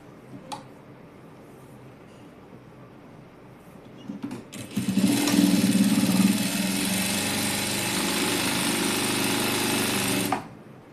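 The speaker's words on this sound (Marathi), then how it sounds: "इथून असं शिवून घ्यायचं आपल्याला" A sewing machine stitches the side seam of a dress. It starts after a few quiet seconds and then runs as a steady, close, whirring hum for about six seconds before it stops, with no talking.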